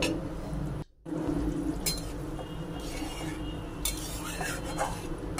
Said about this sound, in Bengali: জল দিয়ে দিয়েছি, দিয়ে হালকা নেড়ে চেড়ে ফুটতে দিয়ে দেবো